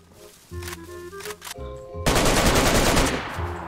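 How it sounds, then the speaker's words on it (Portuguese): Bursts of AK rifle gunfire in the DayZ video game, a few short shots followed by a dense, loud sustained volley of rapid automatic fire, close and unmasked by speech. "O cara tomou vários tiros de AK, descarreguei o pente nele"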